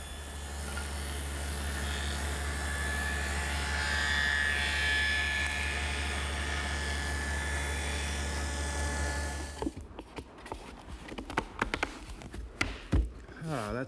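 A table saw cuts a centered groove along the edge of a board for a Shaker blanket chest, a loud steady whine for about ten seconds before the blade cuts off, followed by knocks and handling sounds.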